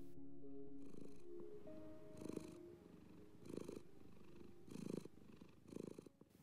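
A cat purrs close and quiet, the rumble swelling in regular breaths about once a second, with a faint tonal hum early on.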